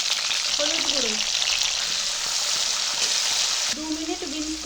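Beans frying in a pan for a mixed vegetable nabaratna curry, with a steady bright sizzle throughout and a few utensil stirs, close and fairly loud, no talking.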